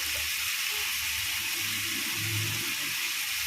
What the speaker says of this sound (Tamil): இந்த எண்ணெயிலே கொஞ்சம் நேரம் நல்லா வதக்கிடுங்க